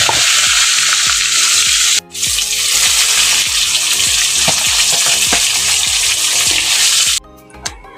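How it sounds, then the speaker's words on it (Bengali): Lote (Bombay duck) fish fry in hot oil with a dense, continuous sizzle and crackle, punctuated by soft clinks and brief dips as pieces are moved in the pan. "বন্ধুরা বাকি মাছ যেগুলো ছিল সেগুলোকে আমি একই রকমভাবে ভেজে নেব"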